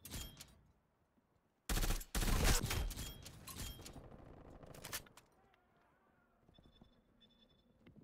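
Automatic gunfire in a first-person shooter video game: two loud, dense bursts of rapid shots around the second mark, followed by softer scattered shots and game sounds fading toward the end.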